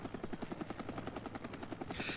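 Helicopter filming the Tour de Suisse cycling race: a faint, continuous rapid rotor chop throbbing steadily throughout, heard from a distance.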